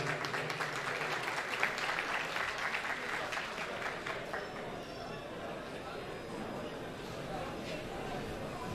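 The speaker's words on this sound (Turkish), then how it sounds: "alkışlarınız Hayat Tıp Merkezi Sayın Veysel Saltaş Beyefendi'ye gelsin" An audience at a unity gala evening applauds a medical centre director with a sustained wash of clapping that holds strong at first, then eases slightly and continues at a steady level.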